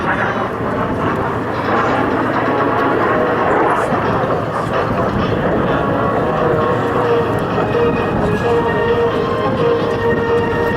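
An F-86 Sabre jet flying an airshow demonstration makes a loud, continuous broadband roar, with a voice speaking over it.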